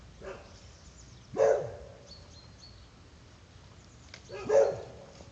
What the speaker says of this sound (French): Maintenant, au lieu de 2 chiens qui aboient, il y en a 3.